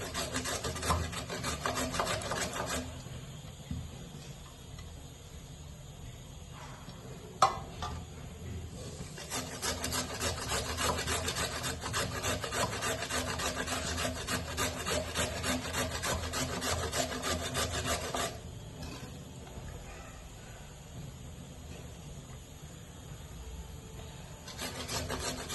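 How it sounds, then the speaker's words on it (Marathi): Sweet potato being grated by hand for thalipeeth, giving steady close rasping strokes that run in long continuous bursts with short pauses, one sharp knock partway through, no talk. "आपलं किसून झालंय स्वीट पोटॅटो."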